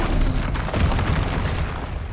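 Incendio fire spell blasts in the Hogwarts Legacy video game, a loud continuous booming roar of fiery bursts and rumble lasting throughout, with a heavier impact near the middle.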